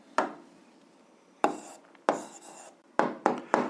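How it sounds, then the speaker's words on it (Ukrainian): Hand writing of a short algebra answer, a few sharp chalk-like strokes and taps in separate bursts followed by quick scratchy marks, close and clear with no talk. "Ну що ж, записуємо відповідь."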